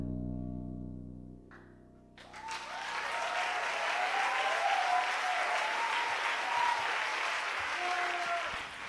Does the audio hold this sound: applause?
yes